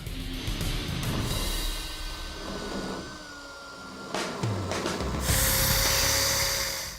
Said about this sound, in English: In case you were wondering why I'm slicing up this material